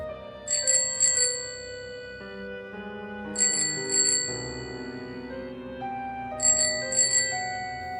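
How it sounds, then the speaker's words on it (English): A bicycle bell rings in three separate bursts of quick double dings, bright and clear over a sustained backdrop of tonal music. "The only answer was another series of bell rings"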